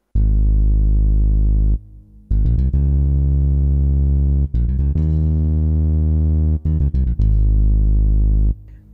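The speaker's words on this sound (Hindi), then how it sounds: "ये जो बेस का टोन मैंने प्ले किया है" A deep synthesized bass tone played on a keyboard, sustained notes with brief gaps between them, loud and close with no voices.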